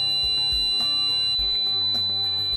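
The buzzer of an automated medication kit sounds a continuous high-pitched electronic tone, loud and steady throughout, with some low thumps underneath.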